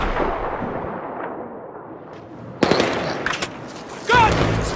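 Gunfire in the Battlefield 3 campaign: a quiet rumbling stretch breaks into sharp, loud bursts of shots and impacts in the second half, with combat noise continuing around them.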